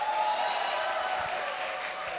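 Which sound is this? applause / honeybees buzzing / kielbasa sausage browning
applause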